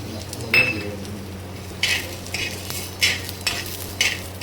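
Chana dal dry-roasts in a pan and is stirred at intervals, a faint background hiss punctuated by several brisk metallic scrapes and rattles of the spoon against the pan, near and with no one speaking.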